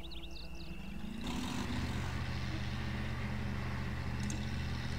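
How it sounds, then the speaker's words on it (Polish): A truck engine in the off-road driving game Spintires starts up into a low, steady rumbling drone that holds on evenly, heard alone without speech. "Silnik pracuje, bardzo fajnie."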